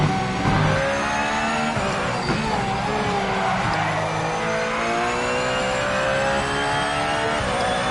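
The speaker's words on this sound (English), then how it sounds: "Porsches like to be in the revs." A Porsche race car engine in a racing video game set at Spa revs hard and high, rising and falling through gear changes with a steady loud roar and faint tyre squeal throughout.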